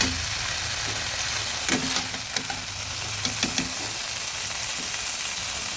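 Prawns sizzling steadily in hot oil in a pan, a continuous close frying hiss with a few scattered scrapes and taps as they are moved about.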